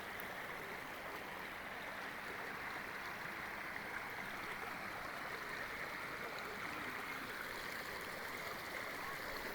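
A natural stream of clear water flows steadily in a quiet, even rush and gurgle, with no talk over it.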